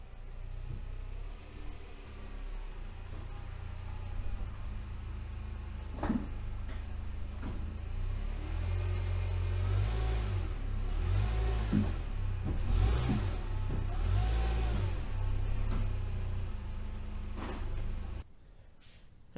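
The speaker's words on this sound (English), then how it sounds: "So, let's pull in the van." Nissan NV200 van rolling slowly up onto cheap plastic ramps, a steady low engine rumble with a few bumps and creaks, fairly close, ending abruptly.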